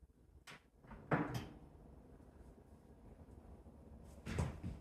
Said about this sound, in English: I'm gonna go ahead and close the door.